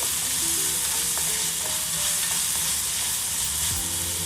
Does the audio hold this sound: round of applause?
no